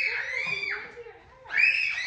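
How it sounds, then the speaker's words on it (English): A young child screams in two shrill, sustained bursts with a brief dip between them, loud and close, during a relaxed holiday-season outing. "Don't scream. No screaming."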